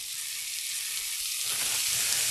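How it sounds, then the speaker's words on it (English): Chicken patties sizzle steadily in a hot frying pan, a constant bright hiss that grows a little louder toward the end. "Oh, nice sizzle."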